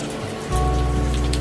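Heavy rain falling steadily, a dense broadband wash that swells louder partway through and holds at a constant roar with no voices.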